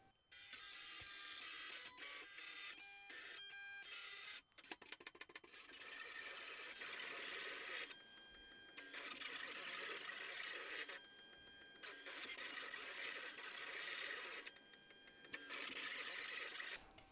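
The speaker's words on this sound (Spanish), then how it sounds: "vamos a enviar a cortar a la máquina" A Silhouette cutting machine cuts laminated paper, its carriage motor whirring in repeated bursts with short pauses and rapid clicking stepper sounds, steady and close.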